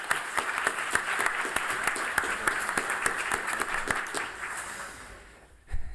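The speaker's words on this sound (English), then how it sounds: "applause for this great pitch" Audience applause follows a pitch at a symposium on data-driven society, a dense steady patter of many hands that holds for about five seconds, then thins and fades, with a brief low bump at the end.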